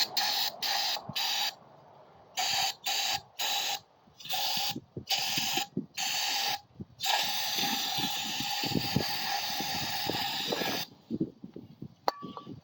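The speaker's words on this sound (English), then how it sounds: "And we'll take some parts cleaner, card cleaner." Aerosol parts cleaner sprayed onto the rear axle bearing area of a Coleman BT200X mini bike, heard as a series of close, loud hissing bursts in short pulses, then one long continuous blast before stopping.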